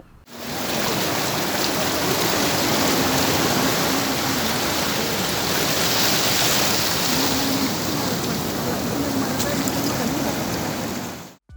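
Floodwater rushing through a channel cut in a sand bank on a coastal beach into the sea, a loud continuous roar of flowing water with surf-like wash and no talk.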